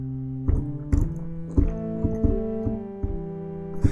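A sustained pipe organ tone plays a series of held notes, each new chord starting with a clear attack, steady and fairly loud with no voices.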